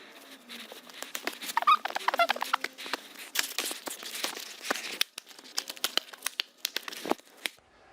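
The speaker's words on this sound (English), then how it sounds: "I'm going to give these a shuffle" A deck of playing cards being shuffled by hand, with rapid close crackling bursts and riffling flutters in irregular clusters, plus a few soft taps and rustles.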